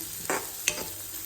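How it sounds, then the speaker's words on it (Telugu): Onions fry in a pan for egg rice, a steady close sizzle with two quick stirring scrapes from a spoon, and no one talking. "ఇది బాగా ఫ్రై చేసుకోవాలి. తొందరగా ఫ్రై అయిపోతాయండి."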